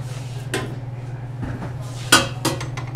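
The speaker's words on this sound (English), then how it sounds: "I'm going to add my butter and my shortening to the stand mixer" Butter and shortening dropping into a metal stand mixer bowl for buttercream, a few soft clanks and knocks scattered over a steady low mechanical hum, with no one talking.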